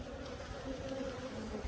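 Honey bees hum during a hive inspection, a close, steady drone with a clear buzzing pitch that runs unbroken through the short moment with no talk over it.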